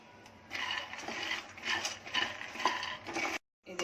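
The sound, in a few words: peanuts being roasted and stirred in a pan on medium gas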